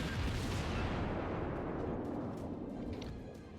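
Heavy battleship shells fire in the World of Warships naval game, heard as a loud, sustained deep boom and rumble that slowly fades. No one talks.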